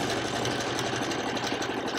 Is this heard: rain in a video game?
no